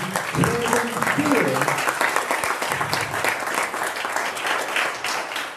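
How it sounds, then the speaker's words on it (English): An audience at a business leaders gathering breaks into dense applause, a sustained wash of many hands clapping, with voices and cheers mixed in throughout. "give him a rousing applause"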